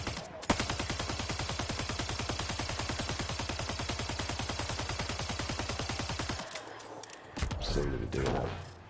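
Sustained rapid automatic turret gunfire in Mass Effect Andromeda, a loud dense burst of evenly spaced shots lasting about six seconds before cutting off, followed by scattered rumbling game sounds.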